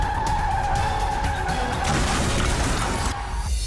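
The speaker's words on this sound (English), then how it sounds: "few sights more terrifying than one jackknifing straight towards your car" Out-of-control lorry jackknifing, tires screeching in a loud sustained skid with tonal squeal and roaring road noise that cuts off abruptly near the end.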